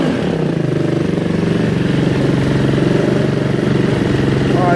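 An SXV motorcycle with an idling fault runs at raised revs, a loud, close engine drone with a fast, even pulse holding steady throughout, no voices over it.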